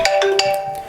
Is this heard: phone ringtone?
yes